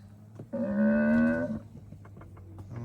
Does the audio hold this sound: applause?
no